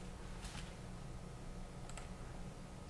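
Typing on a computer keyboard while composing a Gmail message: a few faint, quick key clicks over a steady low background hum, no voice.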